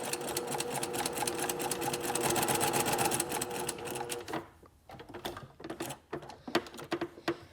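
A sewing machine runs across a gathered fabric section at a 1/4 inch seam allowance. Several seconds of steady, close stitching chatter give way to a few short, uneven bursts as the sewing slows and stops.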